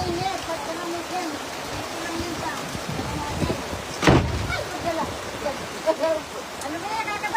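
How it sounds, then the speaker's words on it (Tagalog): Hail falling outdoors in the Philippines, a steady dense patter of ice pellets with a sharp close impact midway, heard under people talking. "Umuulan talaga ng yelo."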